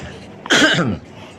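A single short, harsh cough close to the microphone during a religious talk, with quiet room noise before and after.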